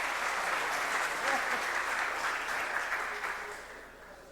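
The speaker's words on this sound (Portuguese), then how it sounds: "Salve de palmas, pessoal." Audience applause at a lecture event in Santa Catarina, a full, steady burst of clapping that tapers slightly toward the end.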